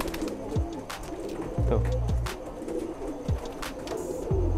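Pigeons cooing in courtship as a male drives a newly paired hen, repeated deep throaty coos in short swooping bursts, close by, with wing rustles, outdoor noise and a brief spoken word.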